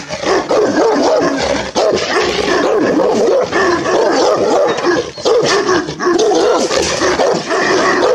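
An adult Kangal dog barks aggressively at close range behind a fence. The barks are loud and deep and come in fast repeated bursts with brief pauses.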